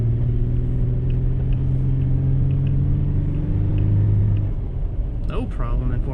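A 2018 Toyota 4Runner TRD Off Road in 4-wheel drive accelerates through snow, its engine a steady low rumble close by that swells briefly before easing, with a short burst of talk near the end.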